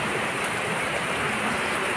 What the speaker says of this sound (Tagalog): parta man kusuga sa ulan.